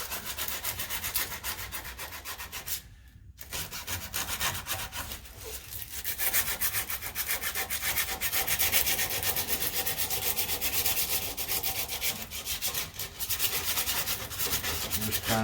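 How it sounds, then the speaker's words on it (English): Sandpaper rubs rust off a trailer wheel hub where the bearing race sits, a close, steady rasping scrub in quick back-and-forth strokes with one brief pause. "all I have to do is sand this front where that race rides"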